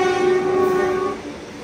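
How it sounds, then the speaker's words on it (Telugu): A goods train at a railway crossing point on the Jodhpur–Kacheguda route gives a loud, steady horn tone over a rumbling rail background, then the tone cuts off and the rumble fades. "హైలైట్ ఏం చెప్పనా, ఇది ఒక గూడ్స్ ట్రైన్."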